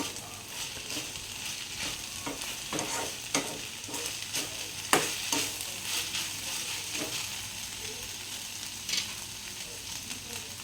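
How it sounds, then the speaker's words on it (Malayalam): Egg curry masala is stirred in a heavy-bottomed pan over a low flame, giving a steady sizzle with repeated scraping strokes of the spoon, close and moderately loud, with no one speaking. "ഇതെല്ലാം ഇട്ട് കൊടുത്തിരിക്കുകയാണെങ്കിൽ നമുക്കൊന്ന് മിക്സാക്കി കൊടുക്കാം"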